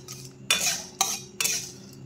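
Whole spices like cardamom, star anise and cinnamon fry in a pan as a utensil scrapes and stirs in three distinct bursts, with a soft sizzle in between and no voices.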